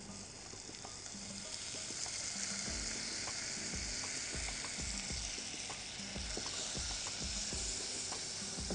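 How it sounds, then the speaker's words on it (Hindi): Leeks frying in hot oil in a pan, sizzling steadily and faintly after salt and lemon juice go in, a continuous crackling hiss with light popping and no voices. "आधा टीस्पून नमक का पैन में डाल दें और नमक डालकर आधे नींबू का जूस लीक्स के ऊपर निचोड़ दें।"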